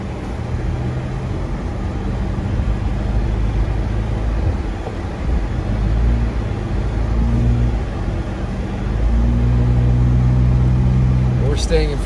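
A car creeps along in first gear over a potholed road in snowy Big Bear, California, its low engine rumble rising and falling with bumps while people talk over it.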